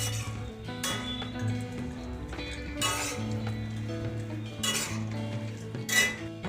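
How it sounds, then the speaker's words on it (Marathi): A spoon stirs almonds in a pan for dry-fruit laddus, making a few sharp metallic clinks every couple of seconds over steady background music. "असं हलवून घ्यायचं बदाम टाकल्याच्या नंतर"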